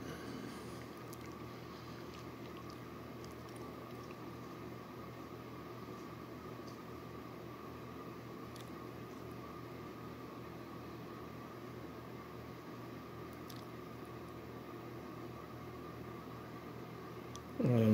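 Steady, even hum and whir of a mega roaster's heater and motor running continuously, with a low droning tone and no break, and a short louder noise at the very end.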